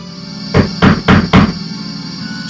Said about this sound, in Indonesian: Suara ketukan pintu.